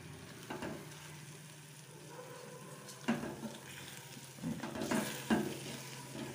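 Egg bhurji fries on a low flame with a soft, constant sizzle, and a utensil stirs and scrapes the pan several times, mostly near the end.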